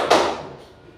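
A single clap from a class clapping hands together during a peer-teaching lesson, sharp at the start and then fading quickly into room quiet.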